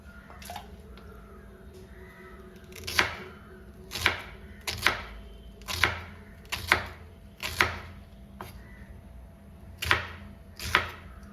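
Raw plantain is cut into small pieces with a knife for a Kerala-style curry, giving a steady run of crisp, close chops roughly one per second over a quiet room hum.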